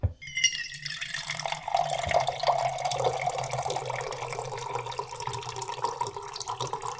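Water streams steadily from a water filter tap for several seconds, a continuous splashing flow with faint dripping, close by and uninterrupted.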